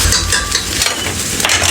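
Rice with vermicelli is stir-fried in a pan, giving a soft continuous sizzle with scraping and light clinks of a spoon moving the grains, close and fairly loud.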